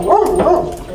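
A dog near a camper barks two loud, close, bright yelps in rapid succession, with no talking.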